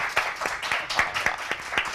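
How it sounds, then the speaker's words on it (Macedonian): A talk show studio audience claps in quick, even rhythmic beats, a bright applause that carries evenly through the short moment with no talk over it. "Да моля аплауз."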